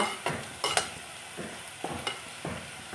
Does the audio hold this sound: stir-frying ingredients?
yes